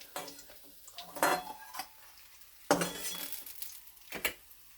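Crisp fried fish is lifted out of a pan of hot oil, with a few distinct clinks and scrapes of a metal utensil against the pan, spaced out over quiet stretches.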